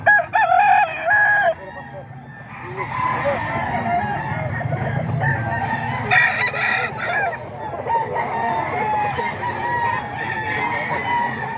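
A rooster crows loudly near the start, followed by a continuous chorus of chickens clucking and squawking close by, at a poultry market.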